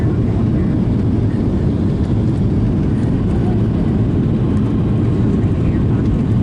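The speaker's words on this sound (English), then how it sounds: "little bumpy landing, I'm afraid." An American Airlines passenger jet landing, heard from inside the cabin as a loud, constant low rumbling roar with no breaks.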